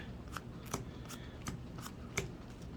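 Yu-Gi-Oh! trading cards being shuffled by hand, a series of soft, crisp riffling snaps at a steady rhythm, close and fairly faint, with no talk.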